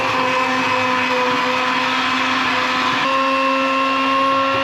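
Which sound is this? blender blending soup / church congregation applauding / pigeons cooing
blender blending soup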